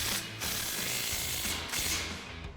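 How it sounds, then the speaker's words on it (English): A 15mm socket on an impact wrench tightens a bolt during front strut and sway bar work on a 2005-2010 Mustang, giving rapid mechanical rattling bursts with brief pauses, fairly quiet and without speech. "we're gonna grab our impact with our 15mm socket and tighten it down"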